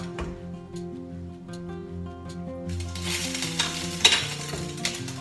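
Batter of cleavers (goosegrass) and wild garlic scapes hits a hot pan partway through and sets off a bright, steady sizzle under background music, with a small clink near the end.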